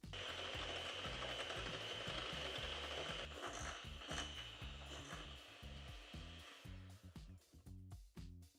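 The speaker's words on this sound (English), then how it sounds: "now grab your electric hand mixer" A small electric hand mixer whips cream toward stiff peaks for mini cheesecakes, whirring with a rattling, clattering drone up close that breaks into choppy stop-start bursts near the end.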